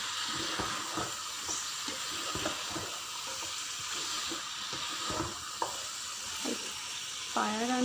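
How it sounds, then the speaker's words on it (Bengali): Mutton paya is stirred through spices in a pan, a dense continuous sizzle and hiss with repeated soft scraping strokes of the spoon throughout, close and steady, with a brief muffled voice near the end. "পায়াটাকে মশলার সঙ্গে খুব সুন্দরভাবে নাড়াচাড়া করে মিশিয়ে নেব।"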